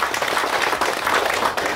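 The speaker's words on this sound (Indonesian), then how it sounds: "Ya, berikan tepukan." An audience claps in sustained, dense applause at a palm oil growers' briefing, a steady wash of many hands with no talk over it.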